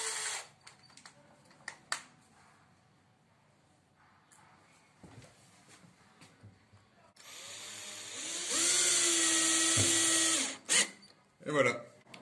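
A power drill drives a screw into a wall anchor, a short buzz followed by a longer steady whine near the end, with scattered handling knocks before it.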